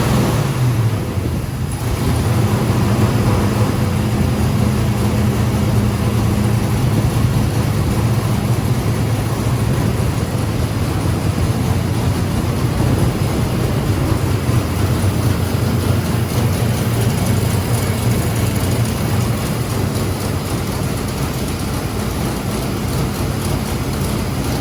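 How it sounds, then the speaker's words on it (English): An LT1 383 V8 with a carburetor, dual-plane manifold and lopey cam idles warm on a dyno, a loud, continuous, uneven rumble that holds steady throughout. "I'll let you listen to the cam lope on this because it's pretty much warmed up right now"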